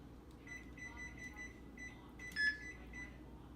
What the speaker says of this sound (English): you hold it down while you scan till it beeps